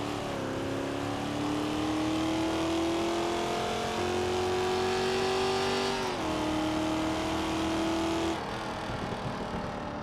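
A car engine in the video game BeamNG drones and climbs steadily in pitch as it revs up, drops briefly through gear shifts, then carries on, loud and continuous without talk.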